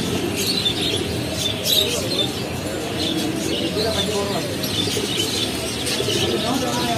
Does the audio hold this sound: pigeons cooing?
yes